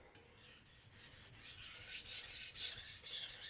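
Knife edge drawn across a sharpening stone at a raised angle of about 15 degrees, giving fast, repeated raspy strokes in a steady back-and-forth rhythm, close and fairly quiet.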